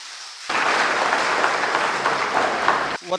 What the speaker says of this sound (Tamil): அதுக்காக ஒரு பெரிய பலத்தை கைத்தட்டல் கொடுங்க